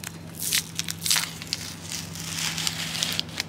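Protective film being peeled off a van window makes crackling, tearing bursts, irregular and close, over a steady low hum.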